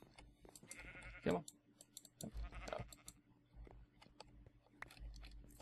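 Blocky sheep in Minecraft give a couple of short, nasal bleats that stand out clearly, mixed with keyboard and mouse clicks and someone speaking briefly.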